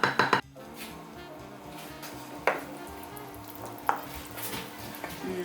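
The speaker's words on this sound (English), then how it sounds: "I gotta stir that up." Chili with beans is stirred in a pot, a spoon scraping and clinking in an irregular rhythm, with a few louder knocks against the side, close and fairly quiet.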